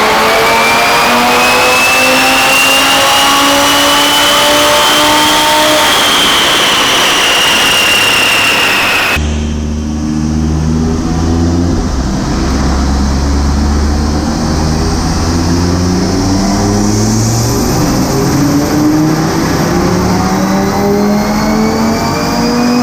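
Stage 2 Audi RS3 engine on a dyno, loud and close, revving up through the gears in long rising sweeps, with a sharp break partway through before climbing again under full load.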